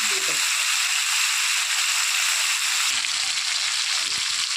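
Beans and potatoes frying in a pan with onion, ginger, garlic, green chilli and tomato paste, a loud steady sizzle throughout with occasional stirring scrapes.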